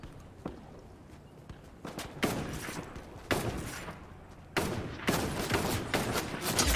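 Bursts of gunfire in the Fortnite video game, several loud sharp cracks and short volleys spread across the clip, close and punchy, with no talk over them.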